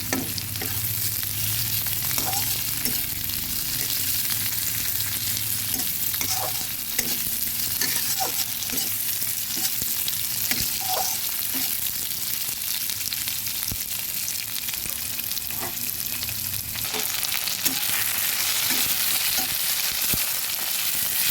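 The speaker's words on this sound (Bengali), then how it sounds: "পেঁয়াজ ভাজির সঙ্গে দিয়ে দিচ্ছি একটা টমেটোকে এইভাবে লম্বা লম্বা করে ভেজে ওইটাও ভেজে নেব" Sliced onion and tomato fry in oil in a pan, a continuous close sizzle with repeated scraping and stirring clicks from a spatula across the whole stretch, no voices.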